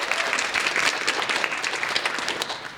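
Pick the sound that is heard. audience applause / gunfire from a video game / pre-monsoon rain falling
audience applause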